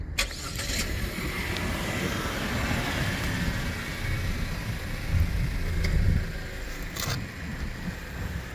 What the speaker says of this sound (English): Lock and lock, remote start.